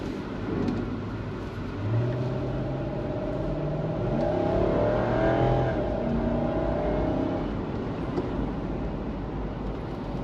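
A Lexus GX470 with FN wheels and an Eibach lift accelerates on the road, its engine rising in a steady, swelling drone near the cabin, with constant road and tire noise underneath and no talking.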